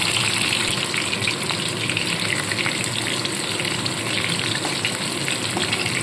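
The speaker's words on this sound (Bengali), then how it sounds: "এপিট ওপিট করে একটু লালসে করে ভেজে তুলে নিতে হবে" Boiled cabbage leaves frying in hot oil give a loud, steady, dense sizzle that holds unbroken throughout, close up and with no talking.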